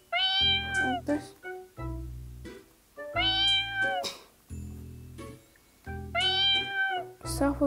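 A cartoonish cat in the puzzle game Brain Test meows repeatedly, three drawn-out high meows in a steady rhythm over bouncy electronic game music and sound effects.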